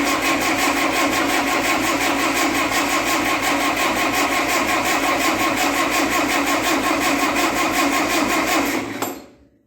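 A 1958 Oliver 550 diesel tractor engine turns over and runs with a loud, steady rhythmic chug lasting almost ten seconds, then cuts off abruptly into silence.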